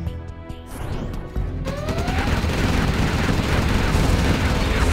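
A Comanche helicopter in C&C Generals Zero Hour unloads its rocket pods: after a quieter opening, a dense, sustained barrage of rapid rocket launches and crackling impacts builds and continues loudly to the end.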